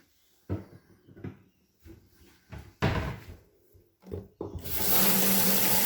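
A few knocks and clatters, then water pours steadily and loudly into a bucket with a little detergent, filling the last seconds.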